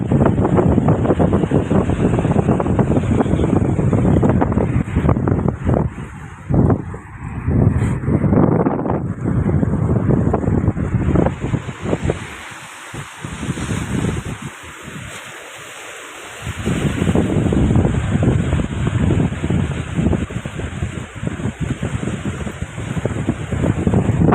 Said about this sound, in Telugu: గాలి ఎంత బలంగా వేస్తుందంటే నేను ఎదురు కూడా నడవలేకపోతున్నాను అంత బలంగా వేస్తుంది